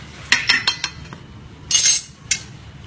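Metal utensils clinking and scraping in a bowl while pickle seasoning of sugar, salt, lime juice, galangal, garlic and chili is mixed for salted eggplant, with a quick series of taps followed by a louder scraping stir and a final clink.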